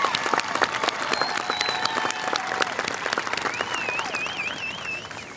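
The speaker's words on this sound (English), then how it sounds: "So give yourself all a round of applause for all your achievements." Steady applause from the audience at a high school graduation ceremony fills the whole stretch, dense clapping with a few faint whistles rising above it.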